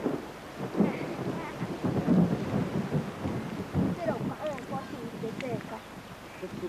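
Thunder rumbling in the Amazon rainforest of Manu National Park, low rolling booms over steady rain, a couple of heavier claps early on, with faint forest sounds above.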